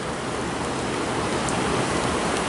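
Steady rain falls in humid Hawaii, heard as a constant, even hiss with no gaps and no voices.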